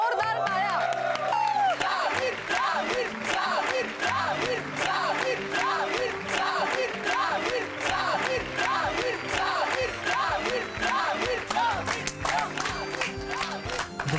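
Applause and cheering from a studio audience on a Marathi TV show as a contestant is introduced, a steady crowd wash under loud music running throughout.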